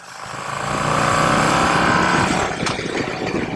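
An old Harley-Davidson Road Glide motorcycle rides along the road, its engine rumbling steadily and swelling into a loud, sustained drone with wind noise, no talk.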